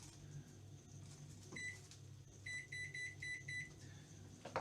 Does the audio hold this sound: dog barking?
no